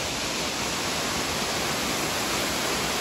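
Hatchet Creek Falls in Shasta National Forest makes a steady, dense roar of falling water, loud and unbroken throughout.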